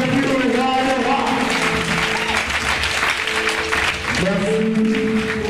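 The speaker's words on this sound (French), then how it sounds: "Applaudissez pour les frères." Congregation applause at a church prayer vigil, continuous clapping under sustained voices and musical tones, loud and close throughout.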